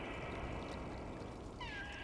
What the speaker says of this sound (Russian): Мяукают.